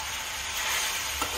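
Chicken sizzling in hot oil with ginger garlic paste, a steady bright frying hiss throughout with a faint stir or clink near the end.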